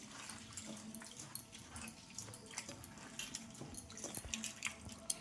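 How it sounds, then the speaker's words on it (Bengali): Flattened rice (chira) being rinsed in water, with soft sloshing, trickling and dripping close by at low volume, continuing steadily without talk. "দেখো, এই চিড়েটা একটু পরিষ্কার করে ধুয়ে নিব।"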